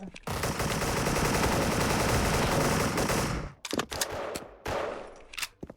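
Rapid automatic gunfire rattles nonstop in a shooter video game for several seconds, loud and close, then breaks into a few shorter bursts and single shots.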